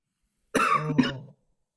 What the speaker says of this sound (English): you don't be coughing now